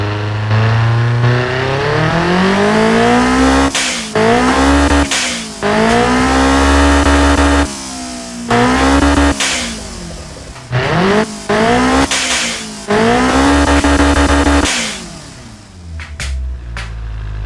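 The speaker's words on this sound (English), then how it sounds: "Look at that, the engine is popping and banging." Tuned Toyota 2T-G turbo engine in the racing game Automation revs hard and loud, with repeated rising pulls, sharp pops and bangs on the overrun, and no talking.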